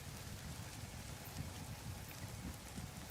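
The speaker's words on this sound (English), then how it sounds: "I love the rain effect that we can hear right now." Rain effect in the video game No Man's Sky, a soft continuous patter of drops over a low rumbling wash, steady and fairly quiet throughout.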